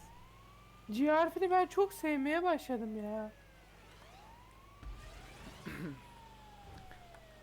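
Wailing ambulance siren in GTA 5 Online, a rising and falling electronic tone in bursts for about two seconds, loud and close, followed by softer game noise and a faint passing siren while people talk throughout.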